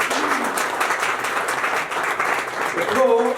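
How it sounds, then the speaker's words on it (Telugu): An audience applauds in a hall, a dense steady clatter of many hands clapping throughout, with a voice speaking briefly near the end. "చప్పట్లు గట్టిగా కొట్టవచ్చు ప్లీజ్."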